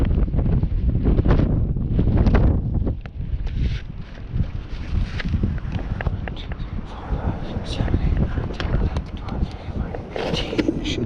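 Steady wind buffets the microphone across a frozen lake during an ice-fishing outing for pike, a loud continuous roar with gusty swells, while someone talks underneath it.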